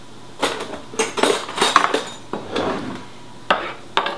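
Olive oil and sugar dressing stirred in a bowl: irregular clinks and scrapes of a utensil against the bowl come in quick bursts, fairly close, with short pauses between strokes.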